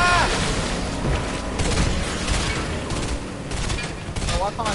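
Video game gunfire, a dense rapid crackle of shots and booms heard over loud game sound and music, with a voice talking in the background.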